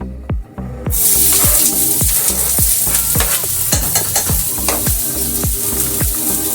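One large chopped onion hits a pan of hot olive oil with a loud burst of sizzling, followed by a steady close hiss punctuated by rhythmic scrapes and taps of a spatula stirring.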